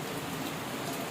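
Rain falls outdoors in a soft, steady, even hiss that carries on without a break. No voices are heard.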